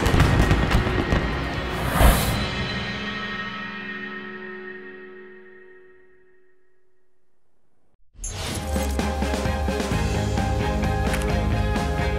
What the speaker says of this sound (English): Fireworks to show the start of these games